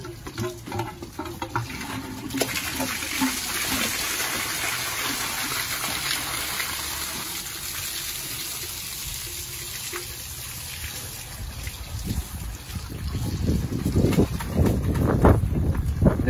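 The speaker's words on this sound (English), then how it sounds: "we go and drain our tank out" Water gushes and drains out of a fire pump's tank in a steady, rushing wash that holds throughout and grows rougher and louder near the end, with no talk.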